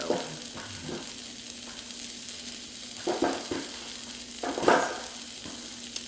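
Onions and ground meat browning in butter in a pan for cheesy sloppy joes give a steady sizzle, with a few louder scraping stirs around the middle and near the end.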